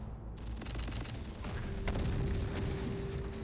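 An explosion in the Terminator Dark Fate Defiance video game, a sustained rumbling blast with crackling debris and scattered pops that carries on steadily and grows slightly heavier partway through.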